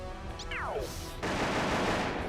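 Enemies firing guns in a GameCube video game: a burst of synthetic gunfire crackles in after a descending tonal sweep, dense and sustained to the end, no talking.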